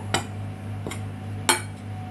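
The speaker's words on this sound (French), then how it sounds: "Je mélange." Spoon or whisk stirring baking powder into flour for yogurt bread dough in a bowl, giving three sparse clinks and scrapes against the bowl over a steady low hum, close and fairly quiet.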